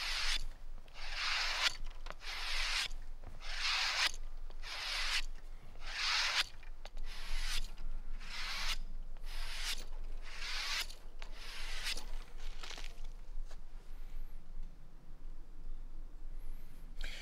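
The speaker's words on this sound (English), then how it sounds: "I'm going to use the inside of my belt, and I'm going to drag the knife" A knife blade is stropped again and again along the inside of a leather belt, each stroke a dry rasping rub. The strokes come in a steady, close rhythm with no talk.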